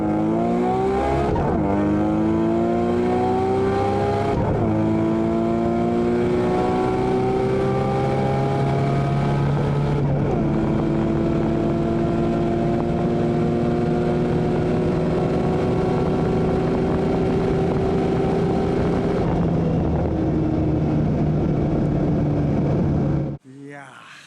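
Nissan GT-R race car accelerating at full speed heard from onboard, its engine screaming and climbing in pitch through repeated gear changes, loud and continuous before cutting off abruptly at the end.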